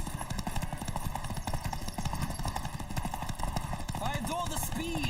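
Rapid hoofbeats of a galloping horse in the video game The Witcher 3 pound steadily, mixed with rushing noise and brief voices.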